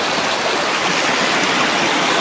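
A deeply eroded stream near Lake Mégantic rushes close by, giving a dense, steady broadband wash of flowing water with no pauses.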